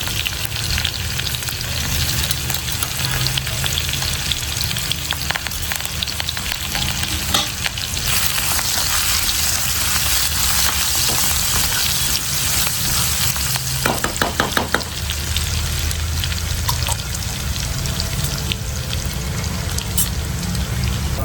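Garlic fries in a pan with a steady crackling sizzle throughout, with stirring scrapes and a brief burst of sharper clatter in the middle, close and fairly loud.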